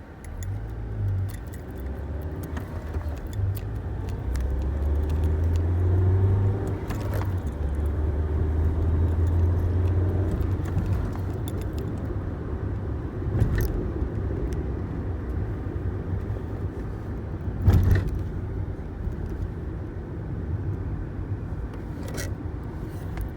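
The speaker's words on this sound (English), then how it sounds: "I'll give them a test drive, see what happens." A manual Chevy Cobalt with aftermarket pedals on a test drive, heard as a steady low engine and road rumble from inside the cabin, with engine notes rising and falling and a few brief clicks and bumps.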